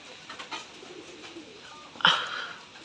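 Rajshahi Giribaz pigeons at a colour-matched loft coo softly, with a brief louder burst of call or wing sound near the end, in a quiet setting with no talk.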